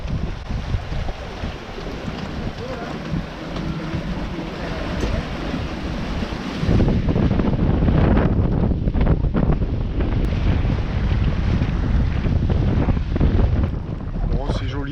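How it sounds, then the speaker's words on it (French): A sailboat moving under sail on open water between Martinique and St Lucia, with steady wind buffeting the microphone and continuous rushing water and hull noise that grows louder after the first few seconds, no talk heard. "progression sous voile"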